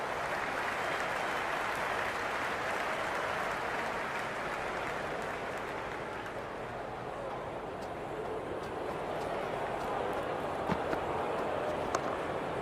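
Cricket 22 video game crowd cheering during a Pakistan versus India T20 World Cup match, a dense continuous roar of stadium noise, steady and moderately loud throughout without pauses.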